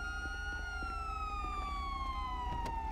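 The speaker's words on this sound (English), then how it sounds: "Alright, Jack, let me turn my sirens off." A police siren in GTA V wails steadily throughout, its pitch slowly falling, with a low rumbling engine underneath.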